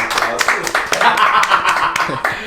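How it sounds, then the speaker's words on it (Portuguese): A small group claps for a student who scored well on military entrance exams, the clapping quick and uneven at close range, with voices talking and cheering over it throughout. "Vamos aplaudir esse garoto."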